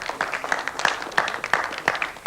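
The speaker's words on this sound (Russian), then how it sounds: "Приветствуем их аплодисментами." A studio audience at the 1997 Oscar TV quiz applauds the winning team from Mogilev, a steady patter of many hands clapping at moderate distance.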